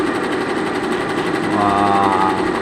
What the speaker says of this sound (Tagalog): Ito po siya ay machine, embroidery machine po